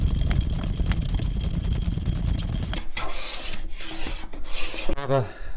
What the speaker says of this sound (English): Next job, planing that face side.